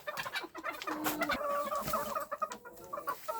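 Bantam hens and a rooster cluck and squawk in a noisy flock, dense overlapping calls close by with no pause.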